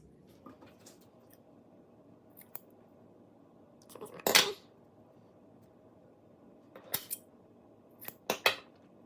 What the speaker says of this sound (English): And then you can cut off the excess.